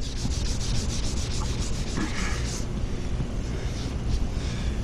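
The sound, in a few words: wet sanding car paint with 800 grit sandpaper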